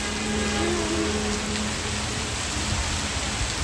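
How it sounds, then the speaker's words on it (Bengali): Heavy rain falls steadily and loud, a dense unbroken wash of drops pounding nearby surfaces, with no voices or other sounds breaking through. "দেখেন কি আল্লাহর রহমতের বৃষ্টি পড়তেছে।"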